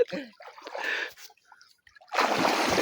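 Water splashes in short bursts as people swim in a village pool, then a louder, sustained splashing toward the end; voices talk and call out around it.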